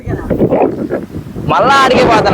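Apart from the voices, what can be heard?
wind blowing into the microphone outdoors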